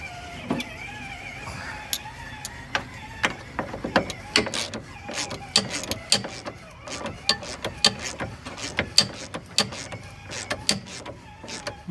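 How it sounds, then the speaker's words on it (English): A ratchet clicks in repeated short bursts while tightening rear suspension bolts on a Honda Civic fitted with Skunk2 Alpha lower control arms, close up and fairly even, with brief pauses between pulls. "Now I'm just gonna tighten it down, tight."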